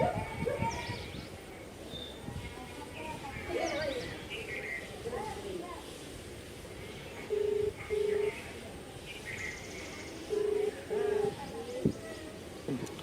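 A telephone being dialed for a call in a village, with two pairs of short, clear keypad beeps sounding over soft talk and pigeons cooing in the background.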